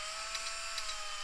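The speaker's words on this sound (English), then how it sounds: "let me turn on the drill a bit." A drill spins the speedometer input of a rally computer, producing a steady high-pitched mechanical whine with a constant tone, loud and close, with no talking.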